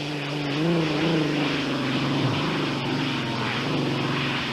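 Loud, droning roar of hydroplane racing boat engines at the 1986 Detroit Gold Cup race, with a steady low hum and wavering pitch, continuous throughout as the boats power past close by.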